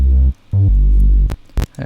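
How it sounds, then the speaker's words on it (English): Sine wave sub bass synth from an electronic track: a deep, loud, sustained tone that plays in long blocks with brief silent gaps, ending in a few sharp percussive hits. "we also have the sine wave sub"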